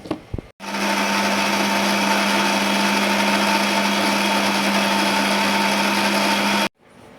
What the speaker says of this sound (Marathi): आणि हे मिक्सरला